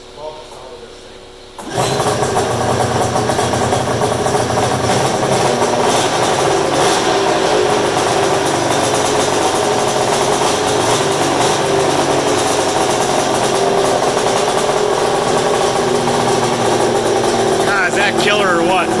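A modified Polaris flatland snowmobile with a two-stroke engine fires up and revs hard, a loud buzzing, raspy drone running continuously after a quiet opening, with a voice heard over it.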